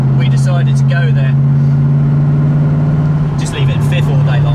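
A car fitted with a 4.6-litre V8 and a loud exhaust drives along, its deep steady engine drone holding a constant low pitch throughout, with a brief shift in tone near the end and voices talking over it.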